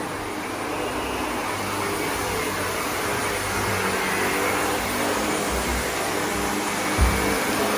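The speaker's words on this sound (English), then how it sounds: "I think I mentioned before about these vacuums are really good. The Seaboard Art, they're German" A German Sebo vacuum cleaner runs steadily on carpet in an apartment block's communal area, a loud, unbroken motor whine and airflow roar with a brief bump near the end.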